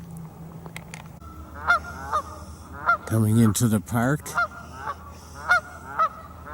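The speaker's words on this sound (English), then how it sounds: "I'm not sure if these geese are welcoming me or just alerting everyone else that I'm here." Geese honk loudly and repeatedly nearby in a noisy flurry, while someone speaks briefly under the calls.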